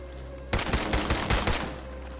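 A weak pistol fires repeatedly in Fallout 4 against bloodbugs, a quick burst of about eight close, sharp shots in rapid succession that stops abruptly.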